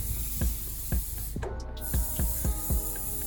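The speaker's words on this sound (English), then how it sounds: "Spray a little bit more." Apple cider scented hair spray pumped in short hissing bursts, about seven quick sprays in an uneven rhythm, close and clear with no talking.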